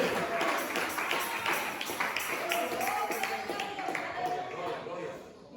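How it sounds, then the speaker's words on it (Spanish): A church congregation claps and cheers in praise during a morning service, a steady mass of hand claps with voices shouting underneath, sustained evenly and fading slightly at the end. "¡Le falta un gran aplauso a Cristo esta mañana!"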